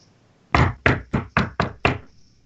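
Six firm knocks on a door in an even, quick rhythm, loud and close, with quiet before and after.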